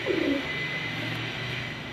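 Pigeons of rare old breeds cooing softly in a hobbyist's loft, a low murmuring coo that runs steadily through the whole stretch with faint bird chatter above it and no talk.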